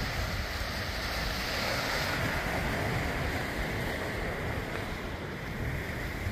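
Ocean surf rolling onto the shore at John Smiths Bay, Bermuda, a steady, loud wash of breaking waves with wind buffeting the microphone throughout, no voices.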